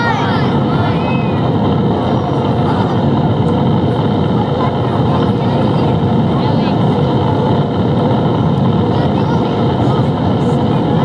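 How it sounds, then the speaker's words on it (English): Three main rocket engines fire at launch with a dense, continuous roar, loud and steady throughout without a break. "At 2:00, the three main engines will engage."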